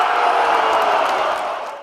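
A large crowd of fans at a Lobo basketball game at the Pit roars in a steady, loud wash of cheering and voices that holds for nearly two seconds before tapering off.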